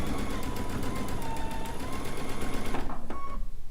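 A sewing machine runs steadily, stitching a seam on a stone log cabin quilt top, its fast rhythmic whir up close and alone, then stopping near the end.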